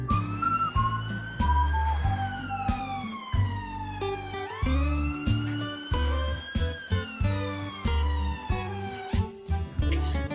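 An ambulance siren wails in rising and falling sweeps, loud and continuous, over a thumping rhythmic music backing.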